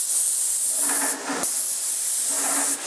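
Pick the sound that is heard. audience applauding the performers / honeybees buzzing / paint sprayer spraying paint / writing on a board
paint sprayer spraying paint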